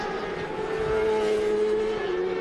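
Race motorcycles at the 2021 Daytona 200 heading onto the west banking, a distant high engine whine that climbs and sustains in pitch, heard faintly against track ambience without voices.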